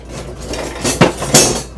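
Dishes clink and knock while cake batter for a sunshine cake is moved into a big bowl, a few sharp clatters and scrapes in quick succession, close and fairly loud with no talk.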